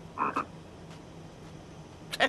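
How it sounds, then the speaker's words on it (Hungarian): Frogs croak in two separate bursts, a short double croak near the start and another near the end, with faint quieter calls between them against a low hum. "Békák!"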